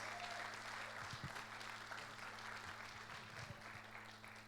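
A church congregation claps steadily in a sustained round of applause, moderately faint and heard from some distance, beneath a constant low hum.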